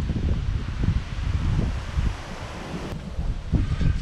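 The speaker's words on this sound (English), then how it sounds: "Just a whole lot of wind down here in Perth." A strong gale buffets the microphone outdoors in Perth beside a Hino FG Hiab truck under repair, producing a continuous loud rumbling roar with gusty swells and rustling throughout.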